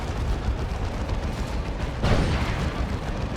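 A tank fires in a Dawn of War 2: Retribution battle, a continuous rumbling wash of combat noise with one heavier, louder blast about midway.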